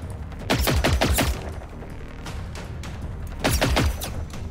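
Gunfire aimed at a mech in Generation Zero: two loud, rapid bursts of shots with booming low thumps, one early and one near the end, separated by quieter ambient rumble.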